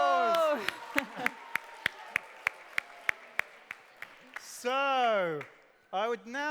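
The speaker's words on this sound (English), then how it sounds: "So the winners are Better Production. Give them a round of applause." A small school assembly audience claps for the quiz winners. The applause is thin and evenly spaced, close and moderately loud, with talking just before and after it.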